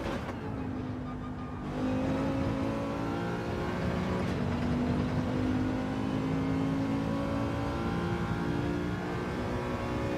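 Nissan GT-R race car engine accelerating hard down the Monza straight in Gran Turismo 7, a sustained, rising engine whine with steady gear-driven tone, loud and continuous, with no one talking.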